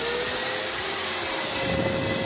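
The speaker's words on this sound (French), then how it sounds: "Nous avons un aspirateur et une ponceuse branchée directement sur l'aspirateur, ce qui fait que quand ça démarre," Sander plugged directly into a vacuum cleaner, running during a barn renovation with a drone-like motor whine and airflow rush that holds steady and loud, then cuts off abruptly at the end.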